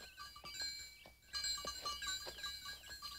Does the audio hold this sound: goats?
yes